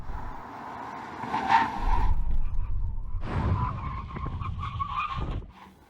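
A car makes a full emergency stop under hard braking, with tyres skidding and squealing over the rumble of the vehicle, loud and close for several seconds before it fades.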